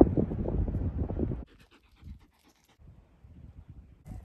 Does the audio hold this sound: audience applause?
no